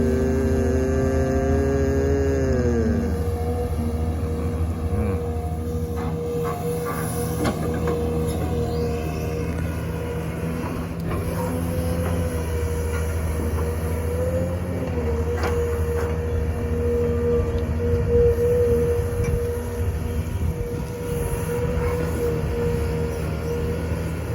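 An XCMG excavator works nearby, its steady diesel drone and hydraulic whine shifting in pitch as the machine moves, with occasional clanks under a constant hum.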